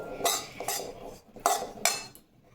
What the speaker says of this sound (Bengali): সবটা একসাথে মিশিয়ে নিচ্ছি